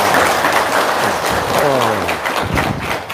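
Audience clapping at an Islamic gathering with a cleric standing, loud and continuous, mixed with a voice and crowd noise, including a rising and falling tonal sweep partway through.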